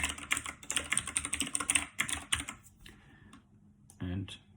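Quick, steady clatter of computer keyboard keys as code is typed, fast continuous keystrokes that stop after a few seconds, followed by a brief soft click.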